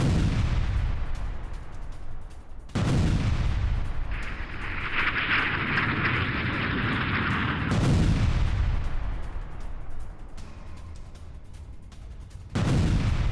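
Heavy gunfire and explosive blasts from an attack on Ukrainian positions, with loud sustained bursts, a long rumbling barrage in the middle and booming impacts throughout, no voices.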